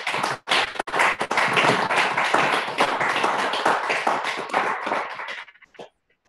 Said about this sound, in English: There you can hear the applause.